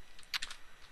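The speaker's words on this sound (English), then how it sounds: "We're typing virtual link" Typing on a computer keyboard, a short run of a few quick, close key clicks heard alone without talk.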